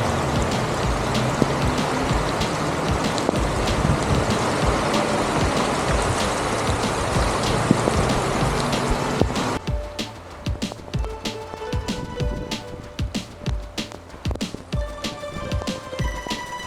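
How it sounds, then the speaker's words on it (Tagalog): Heavy rain pours on a tent while motorcycle camping, a dense, loud roar of drops that drops off partway to lighter, scattered patter and drips. "Biglang bumuhos yung ulan"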